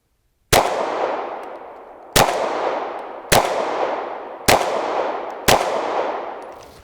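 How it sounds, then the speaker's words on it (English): Five sharp gunshots from a Glock 23 pistol fitted with a red dot, fired singly at uneven intervals outdoors, each crack loud and close with a short decaying echo. "I'm going to shoot at the top orange dot with this one. I'm going to do 5 shots."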